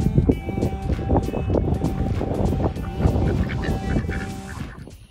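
Silver Appleyard ducks quack as they are put up for the night on a farm, with loud, close, overlapping calls coming in quick bursts throughout.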